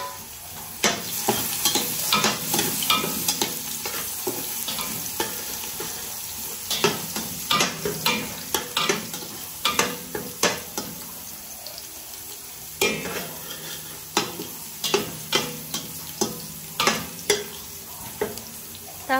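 Garlic sautéing in a pan for goat kaldereta, a continuous sizzle broken by repeated scraping and stirring strokes of a utensil, close and fairly loud, with no talk.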